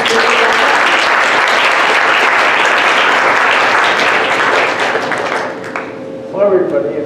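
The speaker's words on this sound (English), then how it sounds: "let's give him a round of applause." A large audience applauds loudly and steadily, the clapping fading away toward the end as a voice begins to speak.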